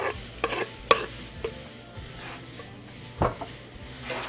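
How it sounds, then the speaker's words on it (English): Beef dropped into a hot pan sizzles, with a few sharp clinks and scrapes of stirring against the pan over a steady low frying hiss. "So now I'm going to add that beef. And we're just going to drop that right in."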